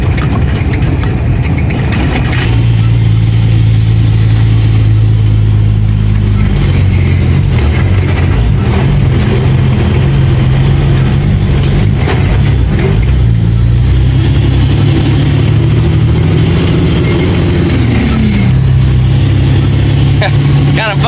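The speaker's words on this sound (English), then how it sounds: "it's kind of fun shifting and grabbing gears with holding one with the camera and the other one on the stick shift" Truck engine with manual stick shift driven on snowy logging ground, a loud steady drone that drops and rises again as the driver shifts gears, continuous throughout.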